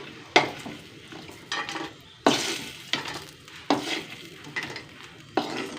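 Chillies sizzle in a pan with repeated scraping stirs, sharp metallic strokes coming every second or so, close and fairly loud, no talking.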